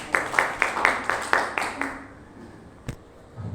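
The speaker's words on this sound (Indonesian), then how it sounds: "Tepuk tangan untuk kita bersama." An audience at a Baznas Nganjuk gathering claps in steady unison, about eight even beats in quick succession, and then goes quiet except for one isolated knock.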